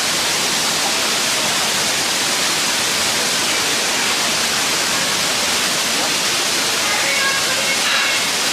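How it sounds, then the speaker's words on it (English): Waterfall at the end of a hiking trail, a steady, loud, broadband roar of rushing water filling the whole stretch, close by and unbroken. "Okay, I made it to the waterfall."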